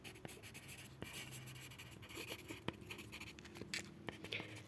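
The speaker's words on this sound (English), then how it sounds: "So let us write this." A pen scratching out an answer on paper in a quiet classroom-style setting, a close, soft run of strokes and taps with short pauses, alone without talk.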